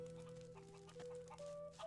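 A few short, soft chicken clucks sound faintly in a Gothic 3 game scene, set against a steady background of sustained musical tones.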